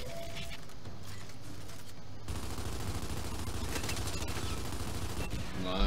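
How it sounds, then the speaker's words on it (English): Dense gunfire from a gun in the video game Gears 5, a steady loud barrage of shots that runs throughout and swells in the final seconds. "I know how to fire a gun"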